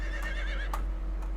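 A horse in the video game Conan Exiles whinnies with a wavering, high neigh, followed by a couple of soft thuds over a low steady hum.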